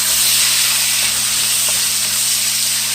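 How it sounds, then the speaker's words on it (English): Garlic and onions sauté in a pan, a steady close hissing sizzle with faint crackles, unbroken for a few seconds. "And then we're just going to saute this, y'all."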